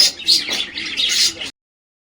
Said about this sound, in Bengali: বেশি দেরি না করে চলুন তাহলে পায়রাগুলোর কিছু ছবি দেখে নিই।